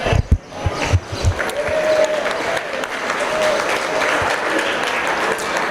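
A crowd applauds at a purebred market swine show in a livestock arena, starting with a few loud single claps and building into sustained, even applause that stays full to the end.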